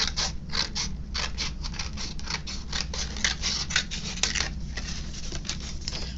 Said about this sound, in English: These scissors are very sharp.